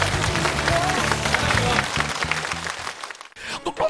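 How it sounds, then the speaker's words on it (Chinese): A studio audience at a television comedy show applauds loudly over a booming, rhythmic music bed. The clapping drops out abruptly near the end, and a short burst of sound follows. "再次掌声鼓起来们"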